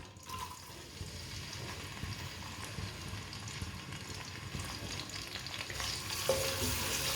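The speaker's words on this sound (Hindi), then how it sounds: "प्याज को हल्का सा ब्राउन कर लेंगे।" Finely chopped onion sizzles in oil with whole cumin and coriander seeds, a steady soft frying hiss with occasional stirring scrapes throughout, no talk.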